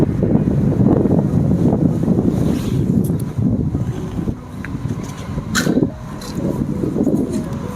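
Wind gusts and rain sweep around an outdoor hillside villa in the Puncak highlands, a steady loud roar that rises and dips over several seconds. No voices are heard.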